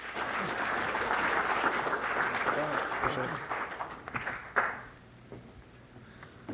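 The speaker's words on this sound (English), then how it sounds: "let's give him a round of applause" A university audience applauds to welcome a guest speaker, a warm burst of clapping that holds for about four seconds and then fades quickly, leaving a few scattered claps and room noise.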